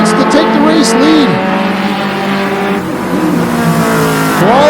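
Mini stock race cars at Flamboro Speedway roar and rev continuously, engines rising and falling as they pass close by, with a commentator talking over the racing throughout.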